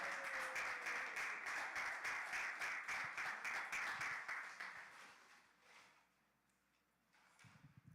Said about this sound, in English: Clap it up for her, y'all.